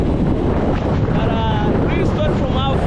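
Strong wind buffets the microphone with a loud, constant roaring rumble, and a voice speaks faintly underneath.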